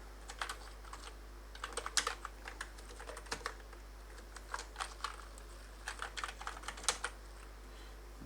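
Computer keyboard keys clatter in quick irregular bursts of close, crisp taps as someone fills in an online form, with short pauses between runs of typing and no voices.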